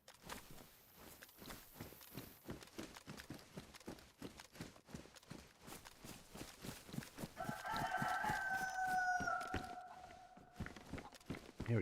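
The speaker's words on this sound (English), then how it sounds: "Here a chicken." A chicken in the video game DayZ clucks and crows over a steady run of crunching footsteps, its calls rising into a louder drawn-out crow near the middle before fading, with no talking.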